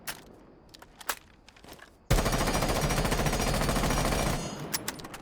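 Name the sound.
gun with compensator firing in video game Rainbow Six Siege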